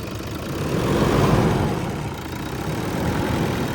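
A 2013 Toyota Innova diesel engine revs lightly, giving a steady low rumble that swells gently and then settles, loud and close, with no talk over it.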